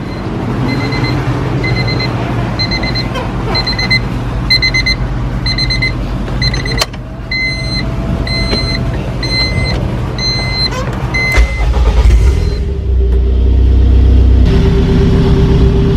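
A Honda K20 engine in a Civic hatchback cranks with repeated warning chimes beeping over the drone, then catches and runs with a louder, deeper engine sound near the end.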